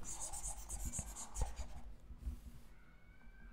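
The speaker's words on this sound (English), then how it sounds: "Let me write on this one properly." A pen scratches across paper in short strokes while working a trigonometry problem, faint and close, fading to near quiet toward the end.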